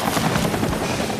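Helicopter in the motorbike stunt game Urban Trial Freestyle, a loud steady broadband rotor roar filling the whole short moment, with no talk.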